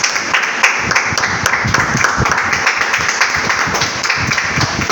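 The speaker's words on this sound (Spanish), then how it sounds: "Dan un fuerte aplauso a Dios." A church congregation applauds, a steady wash of many hands clapping at moderate loudness with a slightly roomy sound, continuing evenly throughout.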